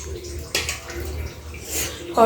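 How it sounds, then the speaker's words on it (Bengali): Two spoonfuls of hot water pour into a cooking curry with a brief, close watery splash and trickle, while a voice speaks over it. "এখন একটু গরম জল দিয়ে দেবো দুই চামচ গরম জল"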